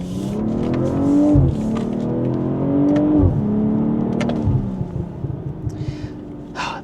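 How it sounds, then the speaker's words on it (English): A 2024 BMW M440 Gran Coupe accelerates through several rising revs with abrupt shifts, its piped-in exhaust note ending in crackling pops and burbles as it settles, heard from the cabin without talk. "also really love the little piped-in exhaust noise with the pops and cracks and burbles"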